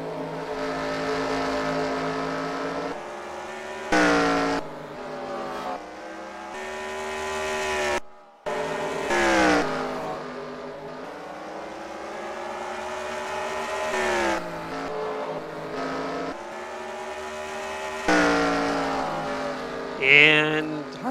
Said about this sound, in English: And Harley Payne still continues to lead the charge in car number 62 as he works down the front straightaway